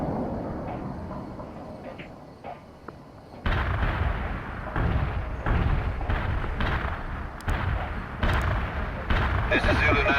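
Artillery bunker buster strike in the World in Conflict strategy game, heavy booming shell impacts and rumbling explosions rolling in after a quieter start, with radio voices talking over the barrage.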